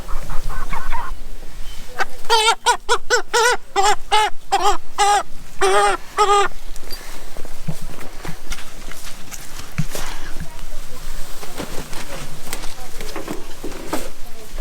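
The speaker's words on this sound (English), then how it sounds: "So first we'll start with William gathering the chickens" Several meat chickens cluck in quick bursts nearby while being gathered on a farm, with shuffling and handling noises and some background commotion.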